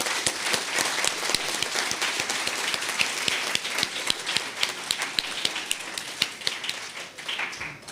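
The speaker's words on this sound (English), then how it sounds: "Please join me now in a rousing round of applause for our panelists" A full room applauds panelists at the close of a plenary symposium, thick rapid clapping sustained at high level for the whole stretch.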